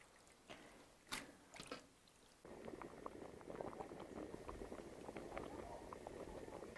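Jiangxi rice noodles cook in a pot. A few soft splashes and drips come first, then a steady, quiet bubbling boil takes over and carries on to the end, close by.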